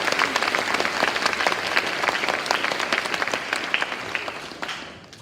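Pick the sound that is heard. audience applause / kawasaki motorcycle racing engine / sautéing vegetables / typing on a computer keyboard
audience applause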